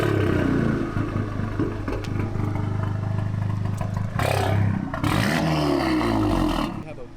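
A Volkswagen Mk7 GTI with an MBRP exhaust fires up loud and close, its deep rumble running steadily before sharp, roaring revs near the end.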